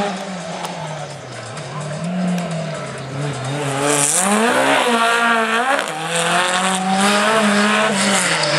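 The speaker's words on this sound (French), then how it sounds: "la belle Alpine Renault" An Alpine Renault car runs hard in a slalom race at Plouay, its engine roaring and revving loudly up and down with tire squeal, while a commentator talks over it.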